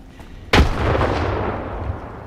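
A grenade blasts in the game STALKER 2, one sudden loud boom followed by a long rumbling decay that fades over the next couple of seconds.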